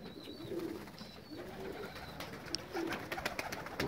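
Soft, low pigeon coos repeat a few times at a distance, with faint outdoor rustling and a few light clicks toward the end.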